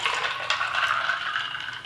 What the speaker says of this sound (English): And we just pour them in together.